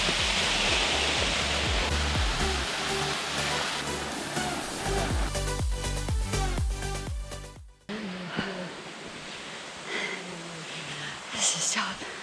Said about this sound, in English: First waterfall on the trail.